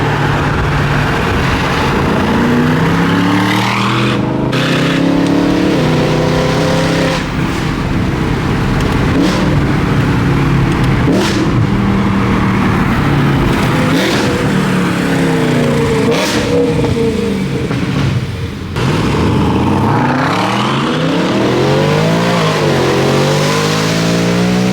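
Dodge Hellcat V8 engine revving hard while driving, a loud continuous roar with rising and falling rev sweeps and shifts heard from inside the car for about 25 seconds.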